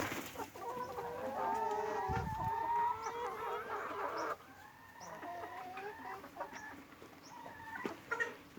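Several egg-laying hens, still young, cluck and murmur nearby on a farm in a steady, busy chatter, with one louder squawk partway through and no talking.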